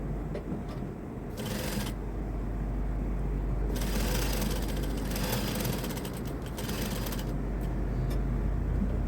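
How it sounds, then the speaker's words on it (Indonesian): Sewing machine stitching the cuff of a men's shirt, heard as rapid mechanical whirring in several bursts separated by quieter pauses, close and steady against a low hum, with no talk. "Sekarang jahit ke lapisannya"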